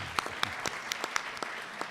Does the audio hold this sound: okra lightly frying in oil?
no